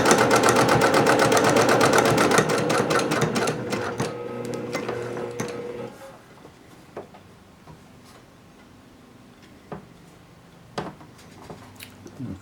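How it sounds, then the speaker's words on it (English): A domestic sewing machine stitching fabric for a courier bag runs steadily and loud for about six seconds with rapid ticking needle strokes, then stops, leaving faint handling clicks and rustles. "I'm going to sew right up to where I see it meets up right here"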